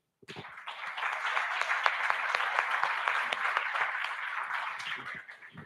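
A church congregation claps together in sustained applause during a Sunday service that swells quickly, holds steady for several seconds, then tapers off at the end.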